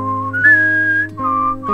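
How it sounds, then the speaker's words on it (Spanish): A single person whistles a short melody alone, held tones rising and falling in pitch across a few connected phrases, close and clear with a steady tonal backing underneath. "¿Puedes hacer conmigo la melodía silbando?"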